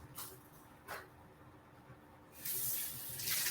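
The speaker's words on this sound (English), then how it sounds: "Let me rinse my hands so I can shape those for us." Hands are rinsed under a running kitchen tap while shaping Beyond Burger patties; after a couple of faint splashes, water gushes steadily and loudly from the faucet to the end.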